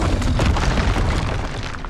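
Booming magical blast of the Expulso spell in Hogwarts Legacy, a dense rumbling burst that fills the moment at close range, thick and loud with rolling low-end texture throughout.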